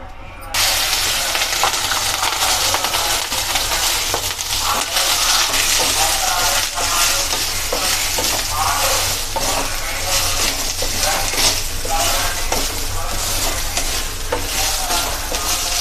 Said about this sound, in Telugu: ఇప్పుడు నెయ్యి పోసుకుందాం దీంట్లో దీంట్లోనే వేసి వేయించుకోవాలన్నం